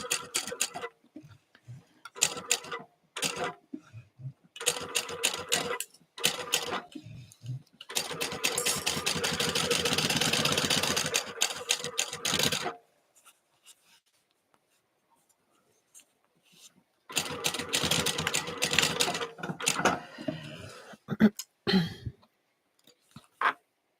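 A sewing machine runs in several bursts, one long continuous run and shorter stops and starts, basting stitches along the inside of an earlier seam while sewing a fabric bottle sling with a front phone pocket.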